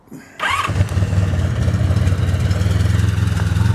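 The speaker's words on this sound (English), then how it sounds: "You just touch the starter and it fires up." A V65 motorcycle engine is started with the starter, firing up after a brief crank and then settling into a steady, loud, close idle that runs alone.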